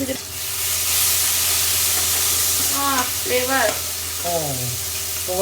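Chicken pan-frying in oil before marinade liquid goes in, a steady close sizzling hiss throughout, with a voice speaking briefly over it.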